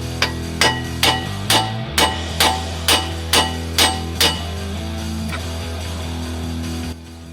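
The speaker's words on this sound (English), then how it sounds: "Now I just have to beat on it a little bit to release it." Hammer beating on a suspension part of a 2019 GMC Yukon to knock it loose: about ten evenly spaced sharp metallic strikes, loud and close, over a steady ringing hum that continues after the blows stop.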